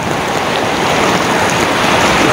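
Waves washing onto a shallow shore during an angling trip at Ternate, a loud, continuous rushing surf noise with no pauses.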